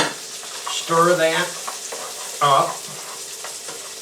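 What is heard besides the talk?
stirring cooked turkey with onions and celery in pan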